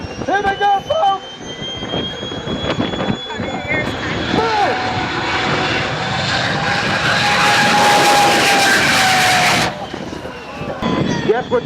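Racing aircraft engines roar loudly at an air show, a sustained rising drone with passing pitch sweeps that cuts off sharply, while a commentator talks over the noise.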